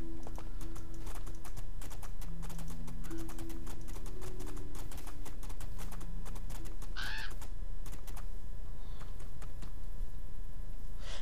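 Horse hooves clop in a steady galloping rhythm in the fantasy video game Two Worlds 2, with crow caws and scattered game sounds over the run.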